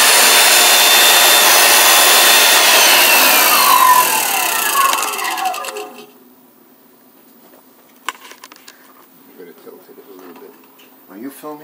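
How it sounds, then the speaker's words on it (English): A beveler machine with a vacuum attached cuts an edge, giving a loud, steady grinding roar for about six seconds before winding down. Quiet clicks and faint voices follow. "now we're going to put it through the beveler."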